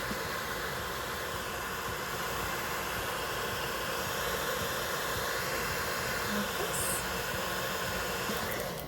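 A heat blower blows steadily onto synthetic eyelashes, a constant broadband whooshing hiss that holds unchanged throughout the clip.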